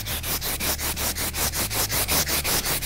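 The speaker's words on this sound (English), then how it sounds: "I'm going to take some more aggressive sandpaper, and I'm going to sand those areas down" Coarse sandpaper is worked over high spots on a guitar in steady rhythmic strokes, about six per second, a loud close rasping back-and-forth with no voices.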